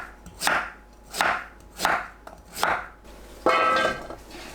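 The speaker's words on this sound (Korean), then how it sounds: "고구마 껍질 벗기고 1cm 두께로 썰어주세요." A knife slices peeled sweet potato into 1 cm thick slices on a cutting board, four evenly spaced, crisp chops followed by a slightly longer, louder cut with a brief rattle, close up and with no talking.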